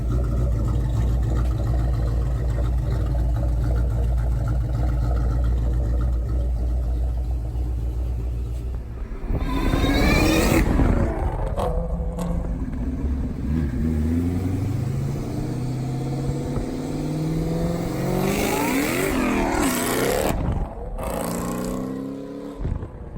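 A 2003 Ford Mustang Cobra idles with a deep steady rumble, then revs and pulls away on a test drive, the engine rising and falling through the gears loudly and close by.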